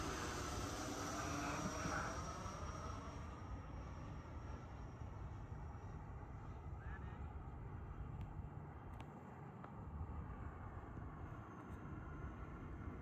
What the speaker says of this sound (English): I'm pretty happy with the maiden flight and how this plane is flying